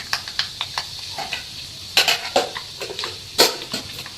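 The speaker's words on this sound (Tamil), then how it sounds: "கடுகும் வெந்தயம் நல்லா பொரிஞ்ச பின்னாடி காஞ்ச மிளகா போட்டோம்" Mustard seeds and fenugreek spluttering in heated oil for brinjal thokku, a string of sharp pops and crackles, close and fairly loud, with a few utensil clinks and no talking.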